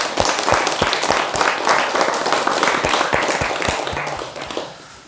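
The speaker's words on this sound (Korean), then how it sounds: "여러분 자신과 도반들을 위해 박수를 한번 쳐주십시오" Audience applause at a Buddhist meditation talk, a dense burst of many hands clapping loudly and steadily, thinning and fading over the last second.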